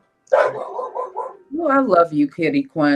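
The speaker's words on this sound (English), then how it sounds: "You hear my granddog?" A small dog barks and yelps a few times in quick succession, close and loud, mixed in with someone talking.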